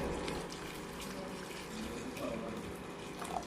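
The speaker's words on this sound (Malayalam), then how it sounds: "നമുക്കിത് കുറച്ച് ചൂടുവെള്ളം ഒഴിച്ചിട്ടാണ് ഞാൻ വേവിക്കുന്നത്." Hot boiled water pours into a pot of mutton dum biryani, a steady, soft liquid rush that continues evenly for several seconds at moderate volume.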